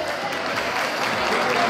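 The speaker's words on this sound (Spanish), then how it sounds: "Fuerte aplauso a Curro." Brief burst of audience applause at a school event, a dense, even patter of many hands filling the space.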